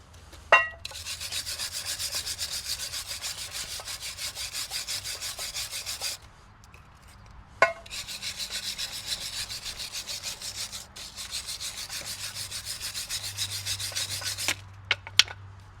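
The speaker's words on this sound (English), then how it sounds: "So I always start with just a normal wire brush here just to clean up all the bulk" Two long stretches of vigorous wire brush scrubbing on a 2018 Honda CR-V rear brake caliper bracket, close and rhythmic, separated by a short pause with a few sharp metallic taps.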